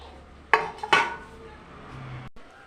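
A steel plate (thala) is handled in a home kitchen while making rice papad, giving two sharp metallic clatters close by followed by a fainter knock, with no talking.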